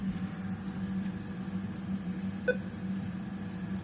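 A Merrychef Eikon E4S microwave oven runs a power test: a steady low electrical hum throughout, with a single short beep partway through as it starts up.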